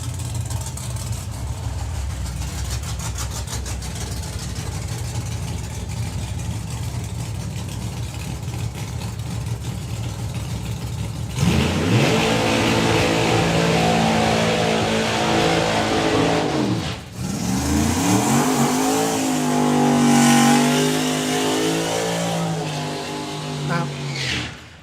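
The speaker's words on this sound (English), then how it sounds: "Jean Delamont with the Sorcerer, the 69 Camaro, going alongside John Webster with the Fast Company Mustang" Pro Modified drag cars, a 1969 Camaro and a Mustang, at a drag racing event: a steady rumbling idle, then loud revving with rising and falling engine pitch, and a brief dip before another surge.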